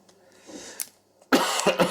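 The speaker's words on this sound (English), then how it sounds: "I'm sorry, I cough." A faint throat sound, then a loud, harsh cough with a couple of quick bursts, close to the listener.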